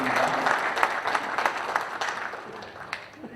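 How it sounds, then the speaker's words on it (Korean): An audience at a Naju City Council policy debate opening ceremony in Korea applauds steadily, a dense wash of clapping that slowly fades, with faint voices underneath. "큰 박수 부탁드립니다"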